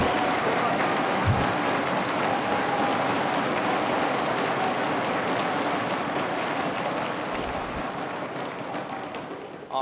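Applause from the audience at a national middle school math competition for the two finalists: a broad, even wash of many hands clapping at a moderate distance, steady throughout and slowly thinning toward the end.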